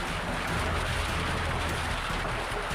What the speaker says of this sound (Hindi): बिहार के बेतिया में तेज बारिश के साथ बड़े बड़े ओले गिर रहे हैं।